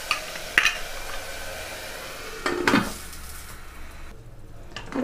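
Onions frying on a medium flame while a spoon stirs them in the pan, a soft constant sizzle broken by a few sharp scrapes and clinks of the utensil, no talk.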